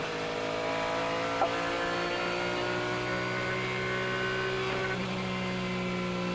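IndyCar race cars at the Music City Grand Prix, a steady high engine drone with sliding pitch bands as the cars accelerate, loud and continuous with no voices.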